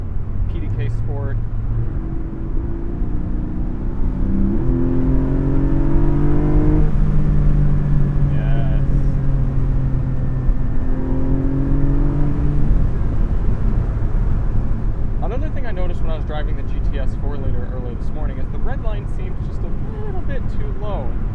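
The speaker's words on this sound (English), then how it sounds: "Let's turn the exhaust into loud mode, PDK Sport." A 2021 Porsche 718 Spyder with PDK gearbox, exhaust set to loud mode, revs and accelerates through gears on a canyon road, a loud, sustained engine note rising and dropping with shifts while someone talks over it.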